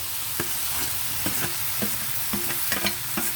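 Capsicum and potato stir-frying in a hot pan, a steady loud sizzle broken by repeated scrapes and clinks of a spatula stirring the pieces, close up and with no voices.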